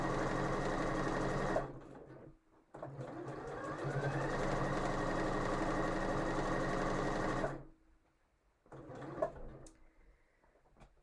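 A home sewing machine runs a seam in two long bursts with a steady, fast mechanical whir, stops between runs and leaves a few short clicks and a brief final spurt.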